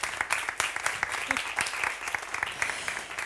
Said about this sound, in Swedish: Vi ger henne en applåd.